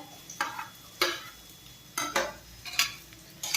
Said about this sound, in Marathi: करपुले छान असे परतून घ्यायचे आहेत